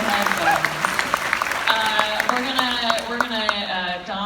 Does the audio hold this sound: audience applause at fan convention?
yes